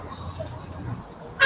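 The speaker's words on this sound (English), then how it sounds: "We still have cars passing and blasting their horns." A car horn blasts from passing traffic at the ENDSARS memorial protest at the Lekki Toll Gate in Lagos. It is a sudden loud, close toot at the very end, after low road noise and background voices.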